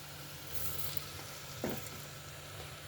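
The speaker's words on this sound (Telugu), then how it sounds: "ఇప్పుడు బియ్యం కూడా వేసేస్తున్నాను." Raw semi-parboiled rice dropped into a hot pan for soya keema biryani, giving a soft steady sizzle with a brief louder crackle burst partway through, alone without talk.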